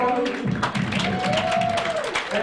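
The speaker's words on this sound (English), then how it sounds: "having a round of applause for our 2 fighters" An audience at an amateur super cruiserweight boxing bout applauds the two fighters, a short burst of clapping under a ringside announcer's voice.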